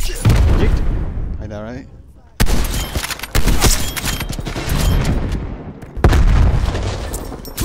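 Nuke detonating in Call of Duty Black Ops Cold War, heavy booming blasts and rumbling explosions arriving in several loud waves, with people talking over them.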